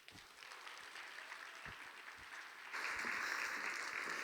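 Faint, distant applause from a church youth service congregation, a steady patter that swells louder and fuller partway through, with no talking over it.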